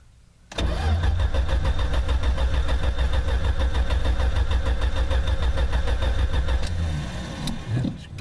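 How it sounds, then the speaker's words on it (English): Plymouth Valiant with a three-on-the-tree column shifter cranking in a hard start, then catching and running loud and close with a steady rough idle for several seconds before settling lower. "Goodness gracious, hard start already."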